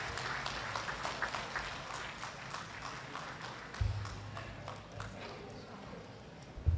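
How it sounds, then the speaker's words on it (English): Audience applause at a university investiture ceremony, many hands clapping in a moderate, fairly distant wash of claps that continues steadily, with a low hum and faint bumps in the hall. "another resounding round of applause to the 8th President of the MSU system"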